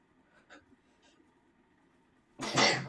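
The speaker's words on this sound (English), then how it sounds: "not understanding why I'm sneezing so much all of a sudden." A single loud, close sneeze bursts out near the end, after a stretch of quiet breathing and faint throat noises.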